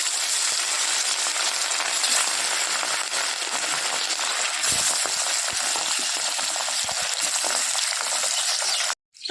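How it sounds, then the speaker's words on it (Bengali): Katla fish pieces rubbed with turmeric and salt frying in hot oil, a steady dense sizzle and crackle filling the whole stretch, loud and close, then cutting off abruptly at the end. "মাছটা ভাজা হচ্ছে"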